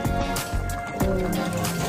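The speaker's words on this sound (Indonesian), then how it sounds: "Waktunya kita siram dengan kocokan telur ya, kayak gini nih" Beaten egg is poured into thick, bubbling Singapore-style shrimp sauce in a pan, giving a soft, continuous liquid splatter and sizzle close by.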